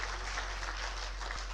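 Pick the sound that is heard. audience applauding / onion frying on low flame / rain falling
audience applauding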